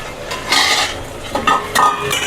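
Tomatoes sautéing in a pan are stirred, giving loud close scraping and clinking of a utensil against metal in short bursts over a light sizzle, with no voices.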